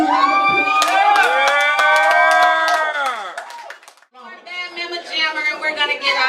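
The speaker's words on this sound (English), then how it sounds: "Can you give them a round of applause?" A crowd at a live band show cheers and whoops loudly, voices rising and sliding in pitch over scattered clapping, dipping briefly before a second burst of shouting and applause.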